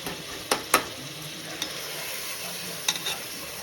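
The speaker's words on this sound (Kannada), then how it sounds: "ಸೊ ಇಲ್ಲಿ ಫ್ರೈಗೂ ಕೂಡ ಸೇಮ್ ಒಗ್ಗರಣೆ, ಆಯಿಲು, ಈರುಳ್ಳಿ, ಒಂದೆರಡು ಮೆಣಸಿನ್ಕಾಯಿ, ಟೊಮೆಟೊ" Onion, green chillies and tomato fry in hot oil with a soft, steady sizzle, broken by a few sharp clinks and scrapes of a stirring spoon. No one speaks.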